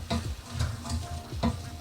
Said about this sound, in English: let this saute for a couple minutes, and I'm gonna stir and make sure it doesn't burn